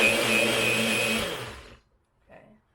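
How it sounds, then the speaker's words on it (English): A blender making a Dole Whip whirs loudly for about a second and a half, then winds down to silence, followed by a brief short burst of motor. "You know how to use a blender, Melissa."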